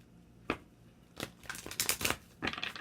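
Tarot cards being shuffled by hand: soft riffling bursts, one short flutter followed by a denser run of crisp rustling riffs, close and fairly quiet, with no voices.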